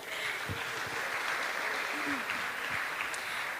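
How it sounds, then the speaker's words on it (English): People at a Sunday feast applaud the cooks with an even spread of clapping, while a few voices murmur faintly underneath. "Let's give a round of applause."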